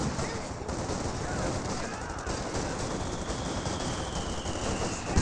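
Dense, continuous battlefield gunfire from the Company of Heroes game, with MG42 machine gun bursts blending into steady rattling fire and scattered explosions, with some faint voice activity beneath.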